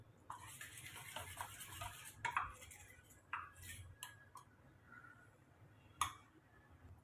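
Wheat dosa batter being mixed in a bowl, giving soft scraping and stirring strokes with a few sharp clinks of the utensil against the bowl, close and fairly quiet, with no talking.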